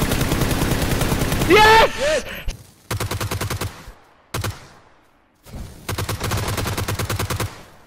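Rapid automatic gunfire from PUBG rings out in loud, regular bursts separated by short pauses, with a voice shouting briefly over the first burst.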